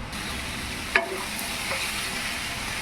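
Cauliflower and potato stir-fry with turmeric sizzles in a pan, with one sharp utensil scrape against the pan early on over the continuous frying hiss.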